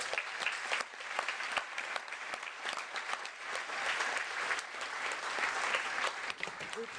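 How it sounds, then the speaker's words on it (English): Steady applause from a town hall audience greeting Councilmember Alan Warren, dense continuous clapping from a sizable crowd that carries on for several seconds at moderate, somewhat distant level. "Please give a round of applause for Councilmember Alan"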